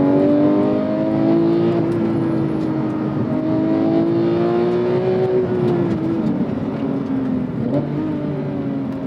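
A Porsche sports car engine, a 911 GT3 or 718 Cayman GT4 RS, pulls hard through the mid-range as one loud continuous rising drone with a steady climbing pitch and no talk over it.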